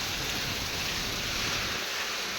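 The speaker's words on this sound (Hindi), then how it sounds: "आज का देखो केते जोर से वर्षा हो" Heavy rain pours down in Jharsuguda, a dense, steady, loud wash of noise that holds without a break and with no voices.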